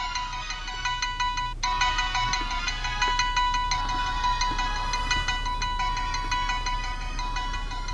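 A mobile phone plays a bright, repeating melodic ringtone at close range. Its rhythmic chiming pattern continues steadily for the full eight seconds with no voices.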